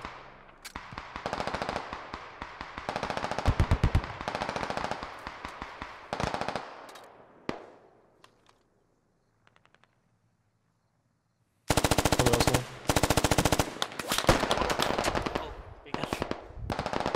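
Bursts of EF-88 rifle fire in the military shooter Squad, loud rapid automatic volleys through the first six seconds, a near-silent lull, then heavy sustained firing returning from about twelve seconds onward.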